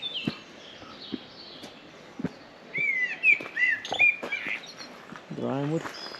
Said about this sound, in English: Noisy birds up there.